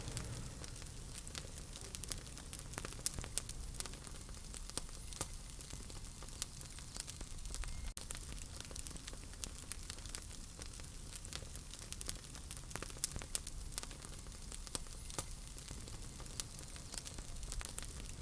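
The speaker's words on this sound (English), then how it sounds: "Let's let our audience listen to the crackle here for about a little bit." A wood fire crackles in a fireplace with steady low rumble and frequent sharp pops and snaps scattered throughout, close and continuous with no voices.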